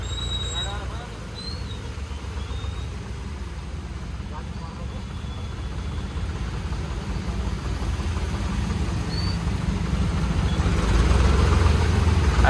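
A tractor engine drones steadily at a low pitch while driving in heavy rain, growing slightly louder toward the end, with a constant rumble in the background.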